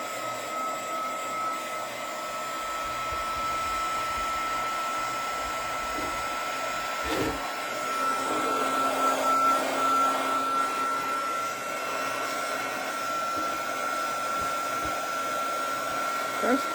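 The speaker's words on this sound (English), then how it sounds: "Now I'm going to put the heat gun to it to dry it so I can put another coat on it." A heat gun blows a continuous, steady whooshing hum close by as it dries a fresh coat of paint, holding an even loudness for the whole stretch without speech.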